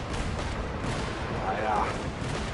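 Heavy cannon fire in the Genshin Impact video game, a dense rumbling barrage of booms and blasts with a voice shouting over it.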